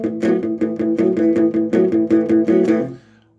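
An easy rock and roll boogie outline is played as a steady, bouncing riff of repeated notes with a driving even rhythm. It is close and clear, with no talking, and it stops cleanly near the end.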